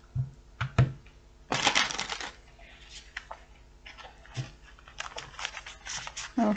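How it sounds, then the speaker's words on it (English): Tarot cards are shuffled by hand in quiet, irregular bursts of papery riffling and soft taps, close to the microphone with no talking over them. "All right, one more shuffle."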